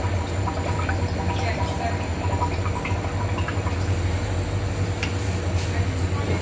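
R404 refrigerant vents from a blast freezer through a hose submerged in a bucket of water, producing a steady, continuous bubbling and hissing rush that stays loud and even throughout without pause.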